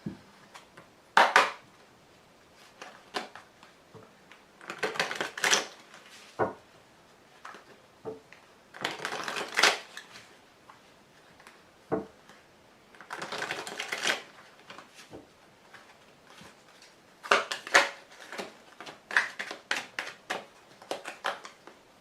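Tarot cards being shuffled and dealt onto a table come as scattered bursts of crisp riffling and slapping, some quick and clustered, others single taps, moderately close with quiet gaps between.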